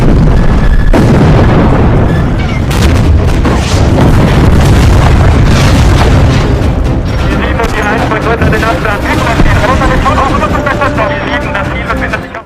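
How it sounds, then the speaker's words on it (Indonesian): Soviet artillery bombarding German troops in a World War II battle scene: continuous loud booms and explosions with crackling gunfire, dense and roaring throughout, later joined by a whirring mechanical drone. "Setelah mendapat koordinat musuh, artileri Uni Soviet mulai menyerang tentara Jerman."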